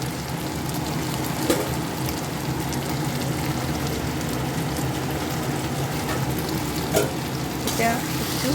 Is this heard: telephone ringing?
no